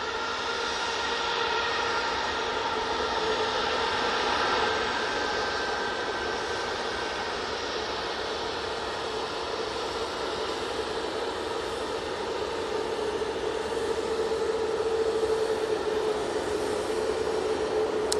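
An Etihad airliner arriving at Manchester Airport roars in a continuous broadband rumble and whine from a distance, steady throughout with no voices.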